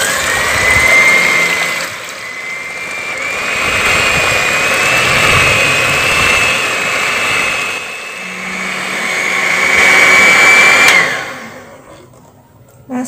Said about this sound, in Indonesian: Sekarang kita mix dengan kecepatan sedang. Dimix selama 10 menit sampai adonan putih mengental dan berjejak.